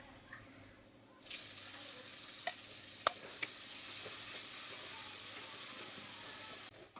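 Chopped tomatoes go into onion and garlic frying in a pan, a sudden rush of sizzle after a quiet start with a few clinks of a spoon, held steady until it cuts off near the end.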